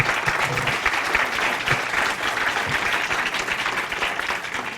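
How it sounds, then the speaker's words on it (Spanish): Steady, moderately loud applause from a seated audience at a legal and tax conference, continuous clapping with faint low thumps and no break. "Les pido un fuerte aplauso, por favor."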